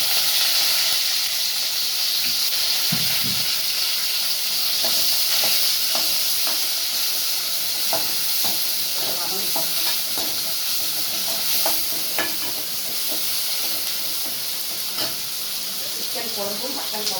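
Curry leaves sizzle in a frying masala of onion and roasted coconut for a bottle gourd curry, a steady broad hiss running throughout with intermittent stirring clicks and scrapes.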